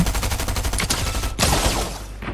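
Rapid gunfire bursts in the video game Fortnite, a close flurry of shotgun shots in quick succession over about two seconds, loud with no talk.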